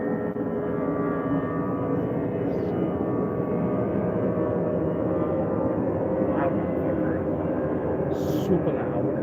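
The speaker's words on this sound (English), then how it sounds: "Sorry for the fucking loud ass goddamn planes." Loud aircraft noise, likely planes passing low overhead, rumbles steadily through the whole stretch as a dense, continuous roar with no letup, with speech picked up faintly in the mix.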